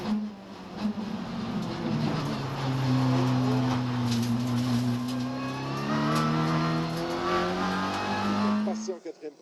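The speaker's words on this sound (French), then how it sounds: "Et on revoit en caméra embarquée le freinage de Benjamin Le Sen." Onboard view of a TCR touring race car braking in a 24-hour endurance race, its engine note falling and rising in steady harmonic sweeps, loud and close throughout, with a commentator's voice faint underneath.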